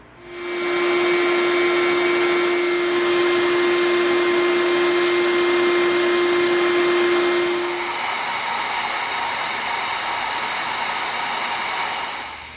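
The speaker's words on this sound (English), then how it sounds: "We got to tear this end up again with the Dremel." A Dremel rotary tool grinds into EVA foam while a blaster is being built, giving a loud, steady high-pitched whine for about seven seconds. It then drops to a lower, rougher hum that carries on to the end.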